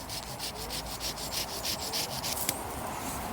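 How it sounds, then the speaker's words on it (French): Steady rhythmic rasping of a hand saw cutting through wood while pruning in a forest garden, repeated back-and-forth strokes close by, with no talking. "la scie, c'est un peu plus large"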